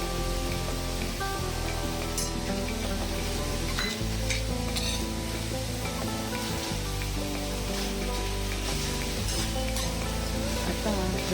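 Garlic sautéing in a kadhai for Maharashtrian green chilli thecha gives a steady, close, continuous sizzle with occasional stirring scrapes, set against sustained tonal hum throughout.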